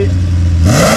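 A BMW 540i E39 with custom stainless exhaust, valves closed, idles with a deep steady rumble, then the engine note climbs sharply as it starts to rev.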